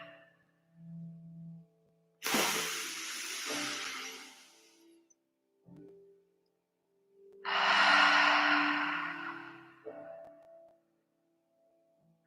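During a yin yoga session, a deep, airy breath is drawn in fully and then released. Two long, close exhalations rise and fade, separated by quiet pauses, with no speech.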